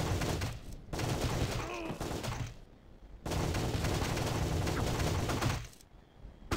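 Rapid gunfire in the Windows shooting game Sure Shot crackles in dense, loud bursts of volleys separated by brief lulls.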